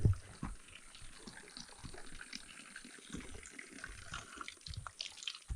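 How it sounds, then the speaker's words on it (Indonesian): Cold mountain spring water flowing on Mount Lawu along the Candi Cetho trail, a steady close trickle and splash with small gurgles, running alone without talk. "Ada sumber air mengalir"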